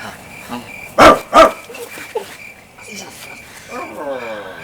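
Two sharp, loud barks from a dog in quick succession near the start, with people talking before and after.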